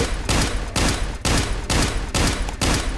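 Sustained automatic gunfire from the survival video game Next Day: Survival rattles in dense, loud bursts separated by brief gaps, steady and close with no talking.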